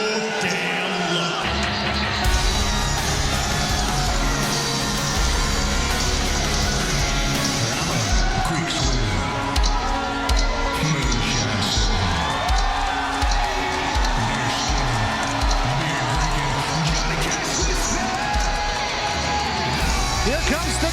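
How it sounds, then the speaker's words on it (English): A large wrestling crowd at an IMPACT event in Indiana cheers and whoops steadily throughout, a dense roar of voices with commentary talking over it. "Great crowd on hand here in Indiana."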